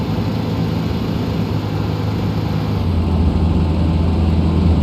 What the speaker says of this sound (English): It sounds like it's got a super big engine.